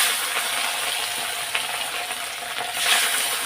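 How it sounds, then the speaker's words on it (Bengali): Fish pieces fry in a pan of oil for a Bengali fish curry with taro, giving a steady, close, bright sizzle and crackle throughout with a few small pops and no talking. "তা এখন আমি দেখো মাছগুলো আগে ভেজে নেব এক এক করে"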